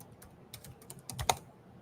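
Light typing on a computer keyboard, with a few soft scattered key taps followed by a sharper cluster of clicks, close and quiet, with no speech.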